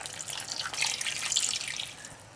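Water poured into a cooking pot of potatoes for Jamaican curry mutton gives a steady close splashing trickle lasting a couple of seconds, swelling in the middle before tapering off, with no talk.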